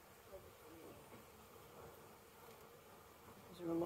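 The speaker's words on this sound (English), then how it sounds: "Is there a lot more bees over here?" Honeybees hum softly at an opened hive during frame inspection, a faint, steady, diffuse buzz with a brief louder rustle at the end.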